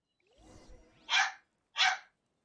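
A dog lets out two short, sharp barks about half a second apart after a softer, muffled rustle, close and fairly loud.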